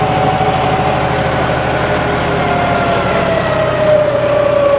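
The diesel engine of a John Deere 5210 4WD tractor drones loudly and continuously up close while working soil, its pitch sagging gradually as the RPM drops under load.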